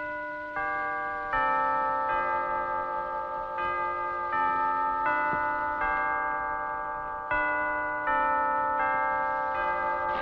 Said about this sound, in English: The bell. It's only the clock